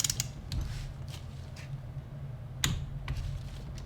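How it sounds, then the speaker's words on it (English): A torque wrench tightens cylinder head bolts on a 12-valve VR6 engine, with faint mechanical creaks and sharp clicks at irregular intervals, one louder click near the middle, over a low steady hum. "Now we'll bring out the torque wrench, torque them all."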